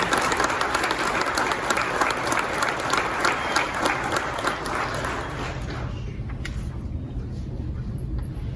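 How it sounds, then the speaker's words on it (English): Sustained applause from a seated audience at a county sheriff's department promotion and awards ceremony, dense and steady clapping that thins slightly toward the end. "A round of applause for Special Agent."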